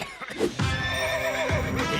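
A cartoon horse gives a loud, wavering whinny lasting over a second, followed by a shorter neigh and faint hoof clops, with no talking.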